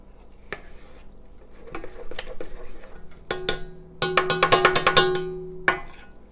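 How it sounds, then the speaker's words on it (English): A spatula scrapes around the sides of a mixing bowl of keto almond and chocolate ricotta cake batter, giving scattered knocks that build into a quick run of bright, ringing taps against the bowl, close and clear with no talk. "I'm going to scrape the sides and make sure"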